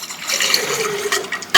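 Water poured out of a tumbler during a magic trick, a close, bright splashing stream with uneven surges that ends in a sharp final splash.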